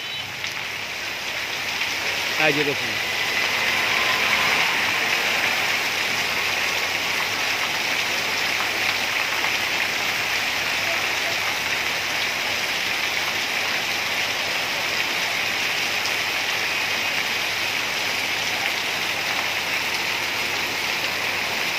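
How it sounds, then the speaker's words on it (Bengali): Heavy rain pours down on the streets of Dhaka after a long heatwave, a dense, constant roar of falling water throughout, with a brief voice near the start. "মানে বৃষ্টির পরিমাণ এতটাই বেশি যে আপনার মাত্র 5 মিনিট ধরে বৃষ্টি হচ্ছে"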